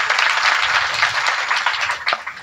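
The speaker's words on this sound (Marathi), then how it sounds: "एकदा तुमच्या हातात टाळ्या वाजवतील का?" Dense, steady applause from an audience at a kirtan devotional gathering during a Harinam week, many hands clapping together loudly and continuously, with no voices standing out.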